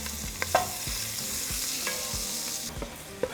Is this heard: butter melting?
yes